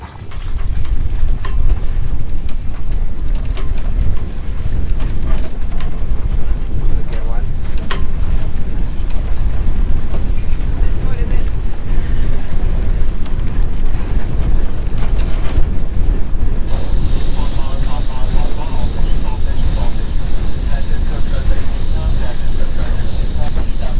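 Strong wind gusts across a sailboat under way at sea, a steady loud roar of wind buffeting the microphone with water rushing along the hull, continuing throughout with no pauses.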